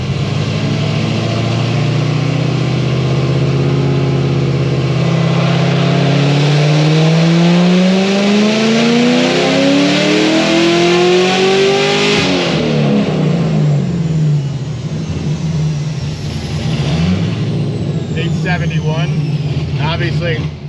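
A 1000+ horsepower Corvette ZR1 running on 93 octane with a DSX fuel system revs hard in a garage, loud engine climbing in pitch through repeated revs, then dropping back to a rough idle and blipping again.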